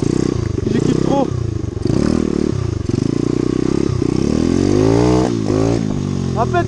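A new dirt motorcycle revs and accelerates hard nearby, its loud engine climbing in pitch in repeated surges with brief drops between throttle bursts, along with some clatter and a voice over the top.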